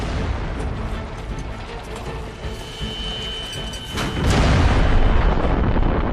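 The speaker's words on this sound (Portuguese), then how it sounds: "It's the Kaiser's secret weapon, a monster made of 3 cannon barrels welded end to end and named the Pariser cannon." A German WWI Paris Gun, a huge artillery cannon built from three barrels welded end to end, fires with a loud, deep rumbling boom that swells in over a constant roar and holds heavy and sustained to the end.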